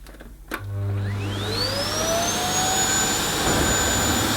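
A Miele Boost CX1 Cat & Dog vacuum cleaner switches on at maximum power over plush carpet, its motor whining up in pitch after a click and then holding a loud, steady, close drone.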